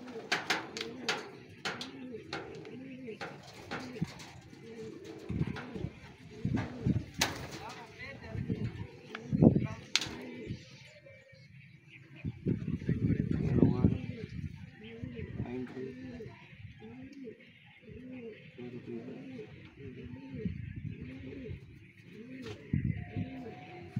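Racing pigeons coo repeatedly in a loft after returning from a race in San Vicente, La Union, with soft rhythmic coos and occasional chirps while people talk nearby.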